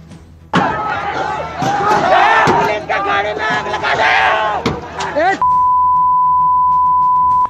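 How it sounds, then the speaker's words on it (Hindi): A violent mob of protesters in Dungarpur, Rajasthan, attacking police with stones: a loud crowd yelling and chanting with sharp thuds and impacts, cut off by a long steady electronic beep. "इस हिंसक प्रदर्शन का एक दिल दहला देने वाला वीडियो भी सामने आया, जिसमें भीड़ पुलिस पर पथराव करती दिखी"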